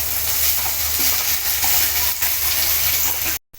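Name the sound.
onion frying in a pan for sambar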